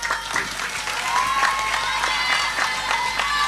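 A crowd at a religious gathering breaks into loud, close applause for the regent, brisk uneven clapping with a few sharp individual claps standing out over a few seconds.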